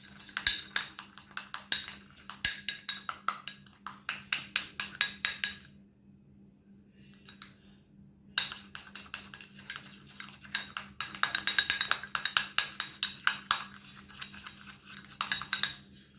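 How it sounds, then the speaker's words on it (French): A spoon stirs half a teaspoon of turmeric into a homemade face mask mixture in a small bowl, giving rapid, rhythmic clinking scrapes in bursts, a pause of a couple of seconds midway, then renewed steady stirring. "j'ai mis juste un demi-cuillère à café de curcuma et je vais mélanger"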